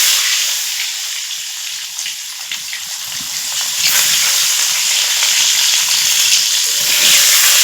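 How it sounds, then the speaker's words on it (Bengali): Boiled eggs frying in hot oil seasoned with salt and turmeric, a steady close sizzle and crackle that swells gradually louder, with no talk. "সেদ্ধ করে রাখা ডিমগুলো দিয়ে দিলাম"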